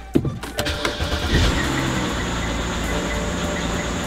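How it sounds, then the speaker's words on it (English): A BMW 328i with the N52 engine, a car with known engine problems, cranks briefly and catches, then settles into a steady idle that stays loud and close. "For now, let's go ahead, turn on the car."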